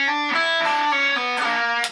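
A distorted electric guitar plays an eight-note lead pattern slowly, notes running together in a continuous sustained line, loud and close with no voice.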